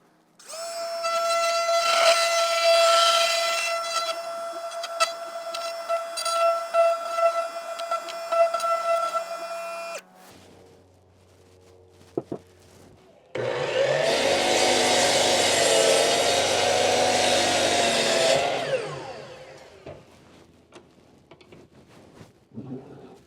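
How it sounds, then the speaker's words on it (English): A power router cutting a hole in wood for a wooden newel post, with a loud high whining run that stops, a quiet gap with a few clicks, then a second loud cutting burst that winds down. "what I'm going to do is I'm going to route the hole actually a little bit deeper than necessary"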